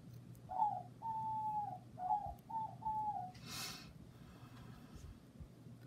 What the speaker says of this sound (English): doves are singing.